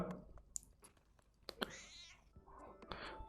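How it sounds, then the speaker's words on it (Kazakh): A cat meows several times, including one drawn-out wavering cry, heard fairly quietly with small clicks and rustles in between. "мысық бұздырып жатыр, достар"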